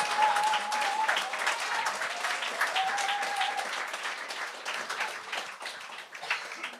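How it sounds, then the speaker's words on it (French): An audience applauds in a burst of dense clapping that fades gradually over several seconds, with a brief faint tone near the start. "On peut l'applaudir, tout le monde!"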